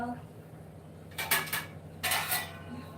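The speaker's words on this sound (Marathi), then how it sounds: "जरासं आपण ह्याच्यावर आता झाकण ठेवूया" A lid set onto a cooking pot of Konkani-style food on a stove, giving two short metallic clatters about a second apart over a low steady background hum.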